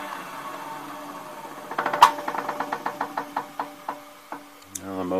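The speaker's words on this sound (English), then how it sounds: "motor's running." A Clarke RS16 floor buffer, just fitted with a repaired switch and cord, runs its motor close by with a low steady hum. A rapid, even series of knocking pulses rides over the hum before it settles.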